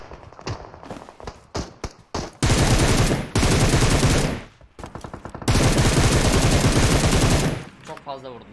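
Heavy gunfire in the mobile battle-royale game PUBG Mobile, with scattered single shots and short bursts giving way to long, loud stretches of rapid automatic fire, then a few trailing shots.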